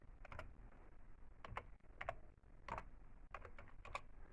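A password being typed on a computer keyboard, with short bursts of clicking keystrokes separated by brief pauses, close and clear with no talking.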